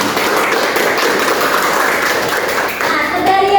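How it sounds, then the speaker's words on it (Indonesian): Classroom applause with several students clapping hands together, a steady dense patter of claps lasting a few seconds at moderate loudness, with a faint voice near the end. "Tepuk tangan dulu."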